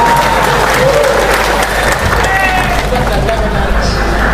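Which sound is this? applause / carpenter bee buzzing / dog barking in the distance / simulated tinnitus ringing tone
applause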